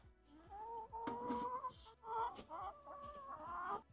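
Chickens cluck and call in a backyard where they roam freely, a steady run of close, overlapping clucks with brief pauses, and no talking over them.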